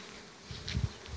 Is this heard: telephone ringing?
no